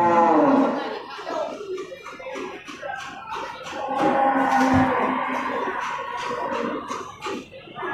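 Aceh cattle moo repeatedly amid a busy outdoor crowd at a livestock market, low drawn-out calls mixing with chatter and bustle nearby.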